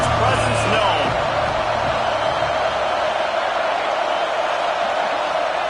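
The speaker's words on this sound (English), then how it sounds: "This crowd ready to make its presence known." Football stadium crowd at an Alabama game roars steadily and loudly, a dense wash of cheering and whooping that carries through the whole stretch with a commentator's voice over it.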